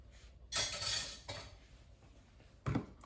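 A utensil scrapes and clinks against a bowl while a vinegar and hot sauce mixture is stirred, sounding as two bursts of close scraping followed by a quieter gap and a final sharp clink.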